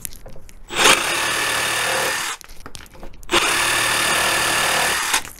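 Makita DJR187Z cordless reciprocating saw cutting wood on its first speed setting, two sustained loud buzzing bursts of about one and a half and two seconds separated by a short pause, close up and with no talking.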